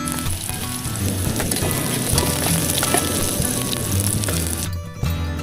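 Garlic and onions sizzle loudly and steadily in a frying pan for a corned beef caldereta on a budget, with a brief dip near the end before the frying hiss returns.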